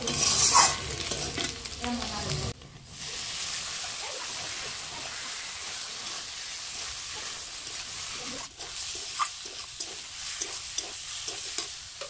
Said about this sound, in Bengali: তো চলো এবার মশলাগুলো দিয়ে একটু কষান করে ঝোলের জন্য জল দিয়ে দিই